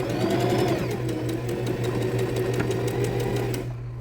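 A sewing machine stitches a straight seam through fabric for an Easter chocolate holder, a close, loud rapid whirring hum with a rhythmic needle clatter, ending in a short backstitch before it stops.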